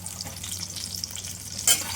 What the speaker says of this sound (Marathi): तुम्ही पाहू शकता दोन्ही बाजूने छान व्यवस्थित वांगे फ्राय झाले